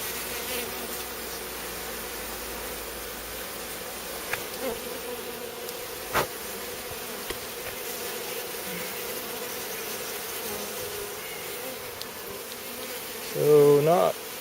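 Honey bees in a new hive buzz steadily close up, a continuous dense drone that persists throughout, with faint handling knocks and a brief louder rustle near the end.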